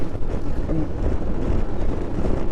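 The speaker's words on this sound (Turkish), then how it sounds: "Acayip bir rüzgar var." Loud, constant wind buffeting the microphone while riding a Yamaha NMAX 155 scooter, a deep rumbling roar with no pauses.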